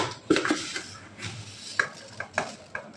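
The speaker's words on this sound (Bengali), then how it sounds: "আগে আমি এখন চাপাতটা দিয়ে নিই" A spoon scrapes and taps against a pot as tea leaves go into milk heating on the stove. Several sharp metallic clinks sit over a soft, steady background hiss, close by, with no one speaking.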